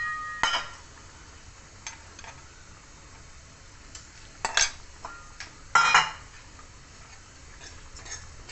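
Fried tempering for a bitter gourd curry is scooped from a pan into a dish, giving a few sparse metallic clinks and scrapes of a spoon against the vessel, separated by quiet pauses.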